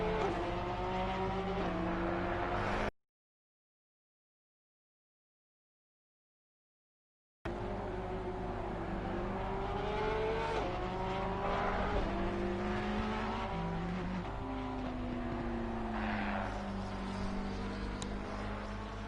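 Race cars in Assetto Corsa Competizione lap Laguna Seca in a two-hour endurance race, engines revving up and down through the gears while cornering, steady and loud, with one silent gap early on.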